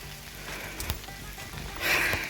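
Steady rain falling outdoors on a steep mountain road, a soft continuous hiss and patter with a few louder drops and a brief swell near the end, no talking.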